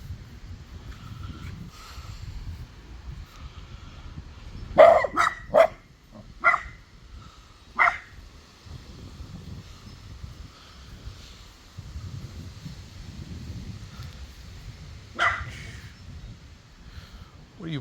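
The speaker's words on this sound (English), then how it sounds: "What are you barking about?" A dog barks in a backyard, a cluster of sharp barks followed by a few scattered single barks, separated by quiet outdoor background.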